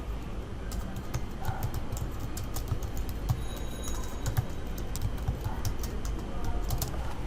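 Keywords are typed on a computer keyboard in quick, steady clicking keystrokes, close and moderately quiet over a faint background hum, with no talk.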